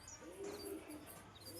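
Domestic pigeons squabble on the ground, giving a single soft, low coo, faint and brief against quiet outdoor background.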